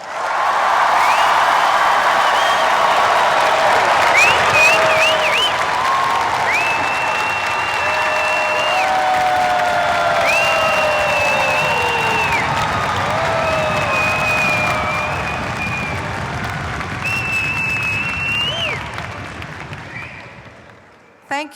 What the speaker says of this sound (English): please express how proud you are of your graduates by clapping and cheering as loud as you can